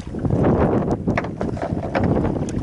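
Wind gusting steadily over an open fishing boat thirty miles offshore, a loud broadband rush buffeting the microphone throughout with faint water and hull noise beneath.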